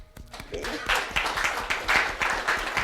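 Church congregation applauding during a service, a moderate wash of claps with some sharper individual hits running steadily throughout.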